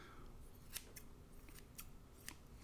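Scissors snip hair during a bowl cut, about five quick, crisp cuts spaced irregularly and heard close, over a low room hum with no talking.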